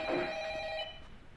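An indoor telephone bell rings once in a short bright electronic trill, close and clear, then cuts off into quiet room tone with no talking.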